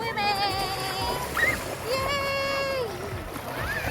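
Kids swimming and splashing in the water of a lake at a state park campground, with steady splashing and water noise under excited children's voices and shouts throughout.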